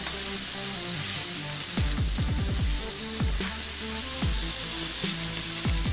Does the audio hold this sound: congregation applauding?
no